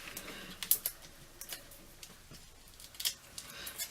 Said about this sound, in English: so I'm just going to cut some more of these out so that I can use them on this card